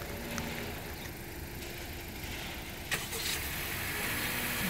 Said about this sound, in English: It has remote start.